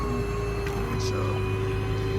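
A hydraulic crane winch on a 2014 Ford F550 service truck runs with a steady mechanical whine and hum over a constant engine drone, with a brief higher squeal partway through.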